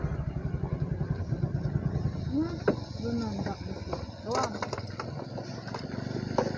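A motorcycle engine idles with a steady low putter on a flooded road, heard close by under talking.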